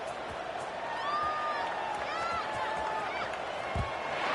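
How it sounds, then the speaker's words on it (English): Stadium crowd noise before kickoff in the NCAA 26 football video game, a steady broad roar of cheering under a commentator's voice, with faint whistle-like tones and a soft thud near the end. "this crowd now ready to get behind them"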